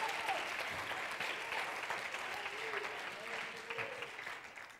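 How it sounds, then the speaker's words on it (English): A church congregation clapping their hands, dense steady applause filling the room, moderately loud, with voices mixed in. "Clap your hands to the Lord."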